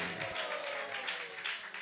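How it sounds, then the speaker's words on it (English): A crowd at a Yogapeeth second-anniversary gathering gives a big round of applause for visiting guests, steady, dense clapping that fills the whole short moment. "So please give a big round of applause"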